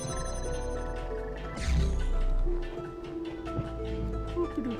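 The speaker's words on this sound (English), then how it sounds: "My phone's ringing, just ignore that." A mobile phone ringing in a room, a repeating electronic ringtone with sustained melodic tones and a brief louder burst, playing steadily alongside game sounds with no talk.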